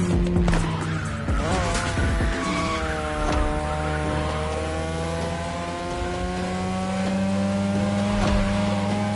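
A 2002 third-generation Mazda RX-7 with a rotary engine races in The Crew Motorfest, its high-pitched engine note rising and falling through gear changes, with tire squeal and a continuous loud drone throughout.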